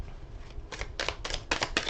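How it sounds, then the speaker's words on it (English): Tarot cards being shuffled, a few quick crisp riffling bursts in a loose rhythm that grow denser toward the end, close and quiet against a faint low hum. "I'm going to shuffle."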